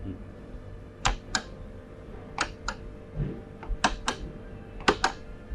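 Blue candidate buttons on an EVM electronic voting machine pressed by hand, giving several sharp, close clicks that often come in quick pairs over a faint background hum.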